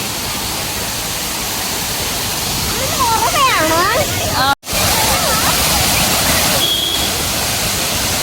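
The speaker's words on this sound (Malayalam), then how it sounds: "എന്നാ ഫോഴ്സിലാ വെള്ളം വരുന്നത്." Water roars steadily from a waterfall at Kuttikanam, a loud constant rush, while people talk briefly over it.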